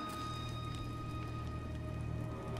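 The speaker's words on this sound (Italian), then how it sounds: "pioggia." Steady rain in God of War, a constant soft patter of drops falling evenly throughout with a low droning hum beneath and no voices.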